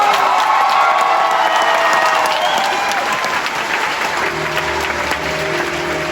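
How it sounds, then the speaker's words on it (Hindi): Sustained, loud audience applause fills a live concert in Canada, dense clapping mixed with scattered cheers and crowd noise that holds steady throughout and eases only slightly toward the end. "कोई जोरदार ताड़ी मार"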